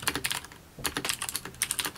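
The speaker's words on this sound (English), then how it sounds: "I was all about the super loud, clicky keycaps and" Fingers type quickly on a mechanical keyboard with clicky switches, giving dense, close, bright clatter in uneven bursts with a brief slower patch, no talking.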